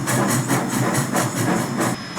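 A steam-style train engine runs along a main line, giving off rhythmic chuffing hisses that pulse about four times per second, loud and close, with a faint steady whistle tone.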